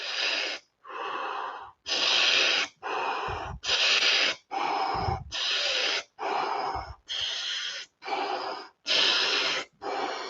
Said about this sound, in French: On va faire peut-être 20, 30 respirations profondes.